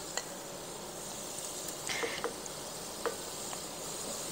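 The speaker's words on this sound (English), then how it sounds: "once your oil has heated up, you want to go in and sit in your potatoes" Potato pieces sizzle in hot oil in a skillet with a steady, moderate frying hiss and a few faint clinks of a utensil against the pan.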